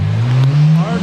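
Nissan R33 GTR engine running hard on a dyno, a loud, steady low drone holding one pitch with a slight rise, brief and close.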